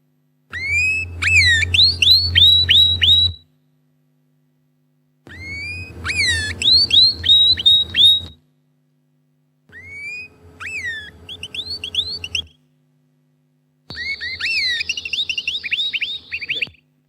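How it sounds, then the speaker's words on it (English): Four bursts of song from a bird being cooled, each a few seconds long, made of rapid chirps and upward-sweeping whistles separated by short silences, close and clear. "Let's hear what happens to the song when you start to cool the bird."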